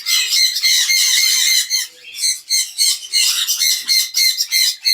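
Hand-tamed parrot chicks in an aviary make loud, harsh squawks in rapid, overlapping bursts close by, almost without pause.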